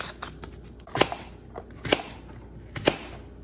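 A knife chops through a sweet onion on a cutting board in three sharp, evenly spaced strokes, crisp and close, with faint handling noise between them.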